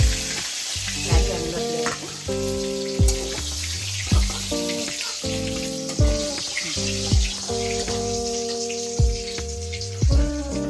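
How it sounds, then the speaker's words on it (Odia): Fish head frying in hot oil, a steady close sizzle with recurring stirring clatters at regular intervals over a faint background tone, no talking. "ମୁଣ୍ଡଟା ଭଲ ଭାବରେ ଭଜା ହେଇଛି।"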